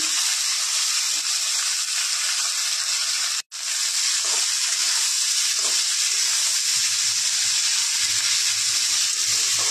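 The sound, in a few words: chopped bottle gourd frying in a pan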